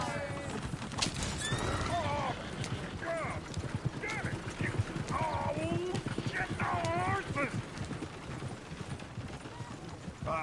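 Repeated horse whinnies and neighs over busy clip-clopping hooves in the video game Red Dead Redemption 2, loud and close, with a lively, clamorous feel throughout.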